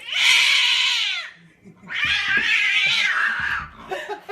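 A cat meows loudly in two long, drawn-out wails close by, followed by softer sounds at the end.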